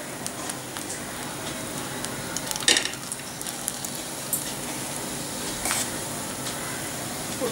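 Bread toasting in ghee on a pan for a spinach corn toast, a soft continuous sizzle with a few close scrapes and clinks of a spatula.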